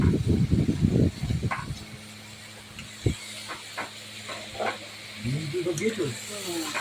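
Spices frying in oil in a pot on a large stove, a soft steady sizzle and hiss running under intermittent speech, with occasional stirring knocks.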